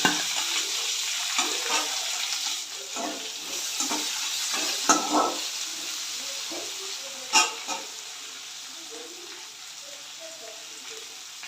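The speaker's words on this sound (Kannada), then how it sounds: "ಒಂದು ನಿಮಿಷ ಫ್ರೈ ಆಗಲಿ" Two medium onions fry in a pan for a bitter gourd gojju, giving a continuous sizzle with stirring scrapes and a few sharper clinks. Brief talk can be heard in the background.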